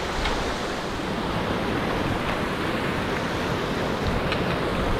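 Strong wind buffets the microphone on a mountainside in gale conditions beside rushing water, a loud, constant broadband roar with occasional sharper gusts and no voices.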